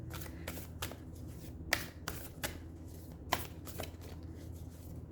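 Oracle cards are shuffled by hand in a series of close, crisp riffling bursts separated by short pauses, over a low steady hum with no talking.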